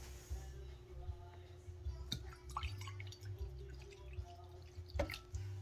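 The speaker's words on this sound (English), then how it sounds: "So I'm just gonna top the rest off with water." Water poured and dribbling into a measuring cup while making jalapeño cheese boule dough, faint splashes and drips with small clinks, heard close and quiet.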